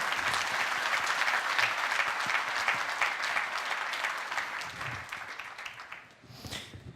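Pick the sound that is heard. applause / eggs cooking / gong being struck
applause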